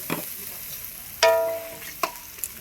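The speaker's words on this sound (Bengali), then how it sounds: "এবারে আদা পেঁয়াজ এটা ভেজে নেব।" Ginger and onion fry in oil in a pan for a bhola fish curry: a soft sizzle with a few sharp clinks and scrapes of stirring, close by and without talk.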